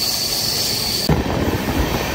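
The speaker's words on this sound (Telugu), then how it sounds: "ఇదిగోండి మొత్తం కొండల్లో వెళ్తుంది చూడొచ్చు ట్రైన్" The Deccan Express rolls through hilly country with a loud steady rumble and squealing wheels, heard close from on board with no voices, the sound shifting abruptly partway through.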